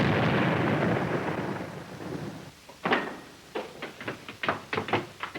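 Radio drama explosion effects: a long rumbling boom that fades over more than two seconds, followed by a rapid series of sharp, punchy blasts like a barrage, with no voices.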